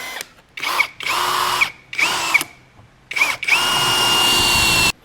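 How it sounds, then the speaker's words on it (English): A power drill bores holes into steel seat mounting brackets for a junkyard seat being fitted to a 1941 Mercury, coming in four or five loud close bursts of whining spin separated by short pauses, the last one longest. "So now we got to drill holes in these."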